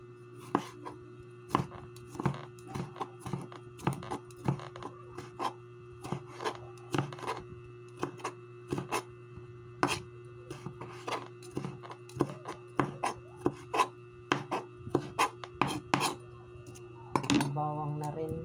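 Knife chops tomatoes on a board with a rapid, irregular series of close, crisp knocks that carry on throughout, with no talk over them.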